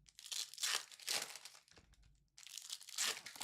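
Packs of Topps soccer trading cards are ripped open up close, producing crisp crinkling and tearing bursts in three clustered runs separated by short pauses.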